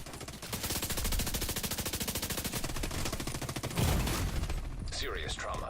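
Rapid automatic gunfire at a shooting range in the Division 2 video game, a fast steady stream of loud shots for several seconds, then a heavier burst followed by brief voices.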